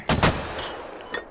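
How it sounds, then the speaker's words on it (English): Two sharp, loud launches from mortars in the military shooter Squad sound in quick succession, followed by a fading rumble and a fainter third report. "Everybody needs to shoot these mortars, we need to fuck them up."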